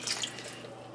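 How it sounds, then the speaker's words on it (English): Water pours into a pot of sautéed potatoes for a healthy vegetable soup, a soft steady splash and trickle heard close up throughout, with no talking. "Add 2 cups of water to that."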